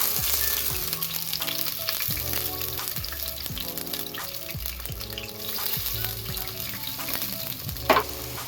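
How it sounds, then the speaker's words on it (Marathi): Ginger and garlic frying in plenty of hot oil in a kadai, a steady close sizzle with bubbling crackle throughout and one brief louder pop near the end, no voices. "आता आपण भाजूया हे थोडं लाल होत नंतर आपण कांदा टाकूया"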